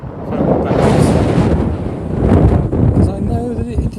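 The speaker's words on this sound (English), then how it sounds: "When it's windy, it does interfere with the sound." Gusty outdoor wind buffets a microphone, producing a heavy, rumbling roar that swells, eases and surges again, with a faint tonal sound near the end.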